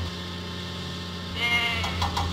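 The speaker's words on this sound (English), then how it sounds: "Diesel must deliver the goats to Farmer McCall's farm" Goats bleat in the Thomas and Friends Lift Load & Haul video game, a short wavering bleat rising late over a steady low game hum, with no talking.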